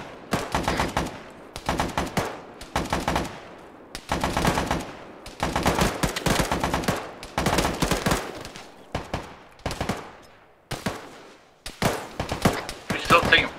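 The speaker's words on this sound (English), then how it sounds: "We're still taking fire." Bursts of automatic gunfire from the shooter game Disavowed rattle loudly in rapid clusters separated by short gaps, with sporadic single shots between volleys.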